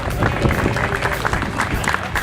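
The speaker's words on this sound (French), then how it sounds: "On peut les applaudir." A small crowd at a cycling race event applauds the participants, a short, uneven patter of clapping mixed with murmuring voices and outdoor bustle.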